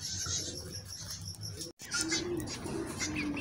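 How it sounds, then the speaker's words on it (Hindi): A breeding pair of finches, a yellow male and a green female, chirps while feeding their chicks, with rapid thin cheeping calls layered over a steady background buzz, broken by one brief gap midway. "आपको ची ची की आवाज़ें आ रही होंगी, ये ब्रीडर पेयर अपने बच्चों को फीडिंग करवा रहे हैं, इस वजह से बोल रहे हैं।"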